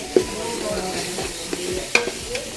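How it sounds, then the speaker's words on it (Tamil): Onions and green chilies sauté in a pan for a Canada-style biryani, a soft steady sizzle broken by a few close spoon scrapes and taps, with no talk. "வெங்காயம் நல்லா வடிவாக வதங்கி வரணும்"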